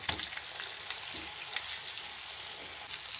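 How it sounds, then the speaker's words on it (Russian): Zucchini slices fry in a pan with a steady, continuous sizzle and faint crackling pops, close and alone with no talking. "Обжариваю все кабачки и складываю на тарелку с бумажным полотенцем."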